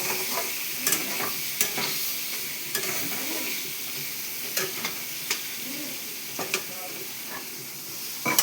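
Pointed gourd with sesame and a little sugar being stirred in a hot pan: a steady soft sizzling hiss broken by scattered spatula taps and scrapes, with no talking.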